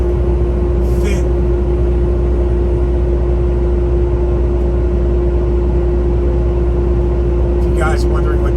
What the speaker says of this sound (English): If you guys are wondering what that noise is, that's my engine fan on high to cool us down.